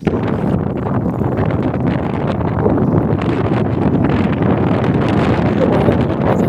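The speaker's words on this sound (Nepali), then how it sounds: "दामी हावा चल्दो रहेछ यहाँनिर" Wind blowing hard across a hilltop spot on a hike, a steady loud buffeting roar against the microphone with no breaks and no voices.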